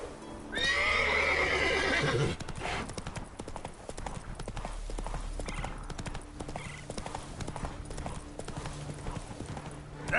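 Hooves of a horse in The Witcher 3 clip-clop at a gallop, opening with a loud close whinny, then a rapid steady hoofbeat rhythm continuing over ambient game sound.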